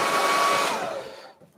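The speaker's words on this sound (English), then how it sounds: "What's going on with that hairdryer there?" A hair dryer blows loudly and steadily at close range in an art studio during a landscape painting lesson, then cuts off and fades out near the end.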